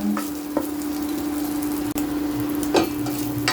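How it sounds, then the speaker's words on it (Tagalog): Steady, close sizzling and crackling of fish frying in hot oil, with a constant hum underneath and a couple of brief knocks. "Prito naman tayo ng fish."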